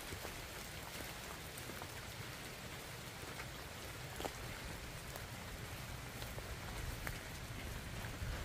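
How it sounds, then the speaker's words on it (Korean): Rain falls steadily onto a yard in the countryside, a dense even hiss with occasional sharper drops striking nearby surfaces, faint and continuous without voices. "지금 비 오거든요 점점 더 오는 것 같습니다."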